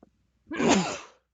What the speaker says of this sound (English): excuse me, I had a sneeze.